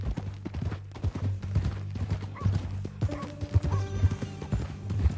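Horse hooves clip-clop at a steady walking rhythm in the Red Dead Redemption 2 video game, close and fairly loud over a constant low tonal music bed, with a brief whinny-like tone partway through.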